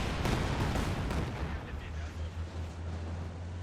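A Panzer IV tank gun fires in a Company of Heroes 2 battle, one loud heavy boom at the start that rolls off into a rumbling decay amid ongoing battle noise and a low engine drone.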